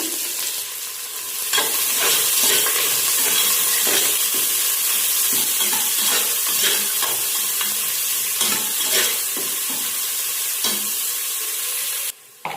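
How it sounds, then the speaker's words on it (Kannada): Onions and green chillies sizzle in hot oil with spices for mutton biryani, a loud continuous frying hiss broken by repeated stirring scrapes, with no voices. "ಸ್ಪೈಸಸ್ ಎಲ್ಲ ಬೆಂದ ಮೇಲೆ ಮೆಣಸಿಕಾಯಿ ಹಾಕ್ಕೊಳ್ಳಿ ಮತ್ತು ಈರುಳ್ಳಿ ಹಾಕ್ಕೊಳ್ಳಿ ಸೊ ಈರುಳ್ಳಿನ ಚೆನ್ನಾಗಿ ಫ್ರೈ ಮಾಡಿ"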